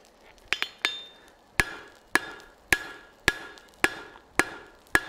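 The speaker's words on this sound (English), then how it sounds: "Going to draw out these tong reins." A blacksmith hammers hot steel on an anvil to draw out tong reins, sounding about a dozen sharp ringing strikes, a quick cluster at first and then a steady, evenly spaced rhythm, close and clear.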